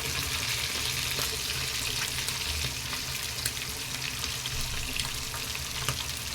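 Fish fries in oil with curry leaves, giving a dense, steady sizzle that stays even throughout, close and moderately quiet, with no voices.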